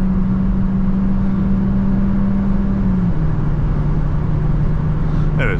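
A 2024 Cupra Leon 1.5 eTSI 150 hp with a DSG gearbox accelerates from inside the cabin, giving a steady loud engine drone whose pitch holds, then drops slightly as it shifts, with road rumble underneath.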